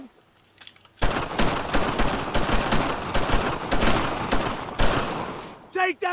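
Sustained automatic gunfire and rifle shots in the World War II shooter Brothers In Arms: Road to Hill 30, loud dense bursts lasting several seconds, with game voices calling out briefly at the end.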